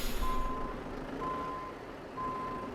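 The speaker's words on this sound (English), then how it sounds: "I like the backup sounds here with this too" A truck in Euro Truck Simulator 2, running a winter sounds mod, sounds three evenly spaced reversing beeps over a low, steady engine idle, fairly quiet and with no talk.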